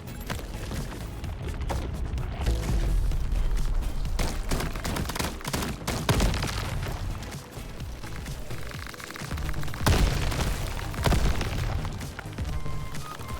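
Explosions tear through a video game battle, a dense, continuous run of loud booms and bursts with heavier blasts around a few moments, layered over a busy game soundtrack.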